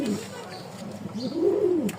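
A fancy pigeon at a market selling Lahori, stretcher, satin and lotan breeds gives a couple of soft, rolling coos close by over a faint background murmur.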